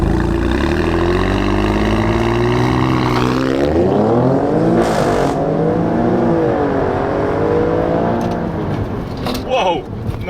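An Alfa Romeo Stelvio Quadrifoglio or Porsche Macan Turbo SUV holds at launch-control revs with a loud, close drone, then surges away as the engine climbs through several gear changes, rising and dropping in pitch before easing off near the end.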